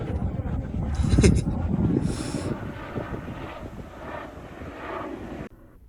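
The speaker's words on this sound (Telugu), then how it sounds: "పైన అయితే హెలికాప్టర్ వెళ్తుంది గైస్" A helicopter passes overhead at a hill park, its steady engine drone and rotor rumble filling the scene with wind noise, fairly loud then fading slightly.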